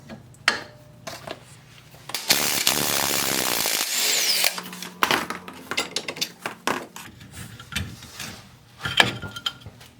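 A 3/4 wrench works loose a shock absorber bolt on a 1992 Jeep Wrangler YJ during a leaf spring install, giving close metallic clinks and ratcheting scrapes with a louder sustained burst of tool noise in the middle.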